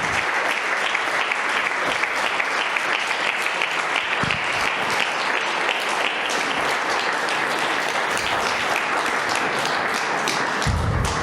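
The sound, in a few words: church congregation applause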